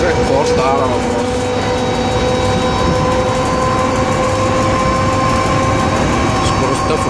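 A fast Bulgarian passenger train, number 36-22, runs at about 130 km/h through light snow near Aytos, giving a loud, steady rumble and rail roar throughout with a continuous tonal whine above it.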